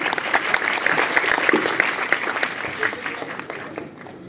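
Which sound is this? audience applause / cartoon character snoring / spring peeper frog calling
audience applause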